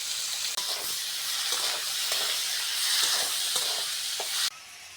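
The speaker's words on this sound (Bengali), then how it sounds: "এবার ডালে ফোড়ন দিয়ে দেবো পেঁয়াজ টমেটো কাঁচা লঙ্কা" Onion, tomato and green chilli tempering poured into dal, sizzling and hissing steadily at close range with a few stirring clinks, then cutting off abruptly near the end.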